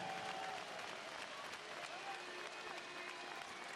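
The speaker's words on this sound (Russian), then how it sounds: "Раздаются аплодисменты в адрес рижского «Динамо»" Hockey fans in a Khabarovsk arena applaud Dinamo Riga's Nadezhda Cup win, a dense, steady wash of clapping from a large crowd that holds at a constant level throughout, with faint voices mixed in.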